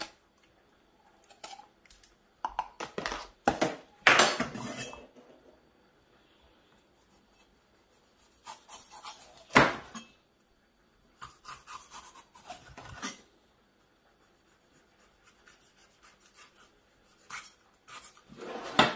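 Red bell pepper sliced into rings with a knife on a board, a few sharp chopping taps and scraping bursts spaced out between quiet pauses, close and fairly soft.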